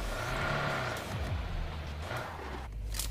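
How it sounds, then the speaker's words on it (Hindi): A motorbike engine in the video game BGMI hums low and steady under a continuous rushing noise, with a brief pitch dip in the middle, fairly close. "यहाँ पर तुम्हें बाइक की हल्की हल्की आवाज आ रही होगी"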